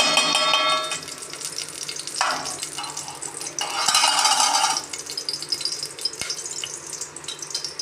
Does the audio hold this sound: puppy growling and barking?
no